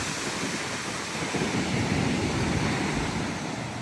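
Sea waves at Thanni Beach in Mayyanad, Kollam: continuous broadband surf wash with a gentle swell in the middle, mixed with some wind noise and no voices.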